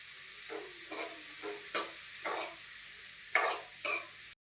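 Onions frying in a pan for chicken gravy, stirred in several short scraping bursts over a steady soft sizzle, close and moderately quiet with no voices.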